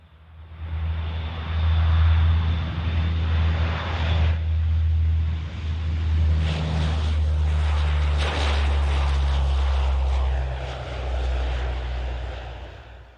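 A Lockheed C-130 four-engine turboprop aircraft drones loudly and steadily overhead, its deep propeller hum and engine whine swelling and easing as it passes, with no voices.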